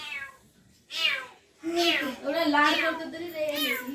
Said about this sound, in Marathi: ती म्याव करते अजून पण